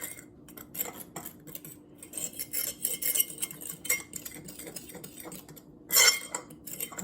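A spoon stirs gluten-free brownie batter in a bowl. Close, irregular clinks and scrapes come in bursts, with one louder clatter near the end.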